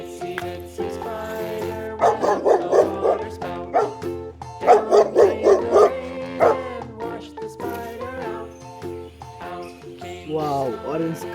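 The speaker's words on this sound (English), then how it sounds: "Wow, beautiful dog. Black color dog." A black dog barks in two quick bursts of rapid, close barks, with softer yips and whimpers scattered before and after.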